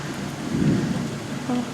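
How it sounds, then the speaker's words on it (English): A low roll of thunder rumbles during a rainstorm, steady rain noise underneath, the rumble swelling briefly and fading. "Can you hear the thunder?"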